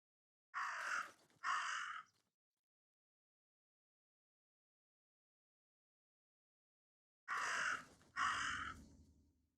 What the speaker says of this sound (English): Because now the raven is around.